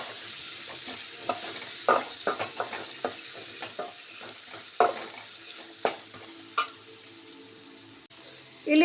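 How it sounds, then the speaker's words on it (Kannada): Onion deep fries in oil for a radish stir-fry, a soft continuous sizzle punctuated by a series of distinct spoon clinks and stirring taps, heard close and alone. "ಫುಲ್ ಡೀಪ್ ಫ್ರೈ ಆಗಲಿ ಇದು ಈರುಳ್ಳಿ."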